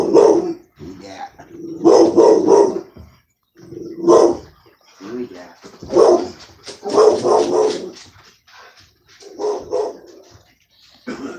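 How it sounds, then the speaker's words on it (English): A dog barks excitedly at a back door in repeated loud bursts, mixed with yips and whimpering, close by and sometimes overlapping a person talking. "My dog's going crazy and going to the back door"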